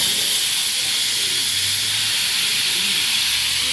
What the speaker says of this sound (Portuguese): Agora eu vou tirar a pressão dessa panela, ó.